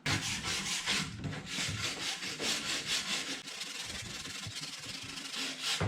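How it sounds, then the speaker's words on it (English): A stainless steel wire brush scrubbing 80-year-old weathered timber along the grain, heard as close, scratchy, rhythmic back-and-forth strokes in quick succession, alone with no talking. "So I'm just going with the grain with a steel brush, stainless steel brush."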